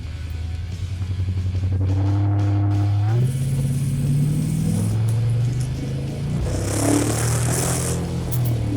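LS-swapped Chevrolet Caprice launching on a street, the V8 roaring hard as revs climb, shifting up through gears with rising pitch sweeps, loud and close with a rough edge.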